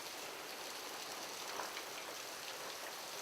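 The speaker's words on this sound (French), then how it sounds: "Ça tombe bien, aujourd'hui en plus, il pleut." Steady rain falls at Yoshino Shrine in Nara, a dense, even hiss of drops on surfaces that holds constant throughout with no voices.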